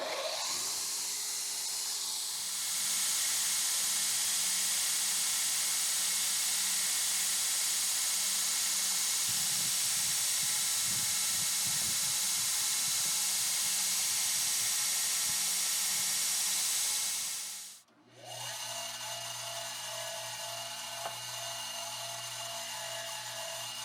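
A machine cuts steel knife bolsters along a reference line, giving a loud, sustained high-pitched grinding whine that runs for most of the stretch, then stops abruptly and gives way to a lower motor hum.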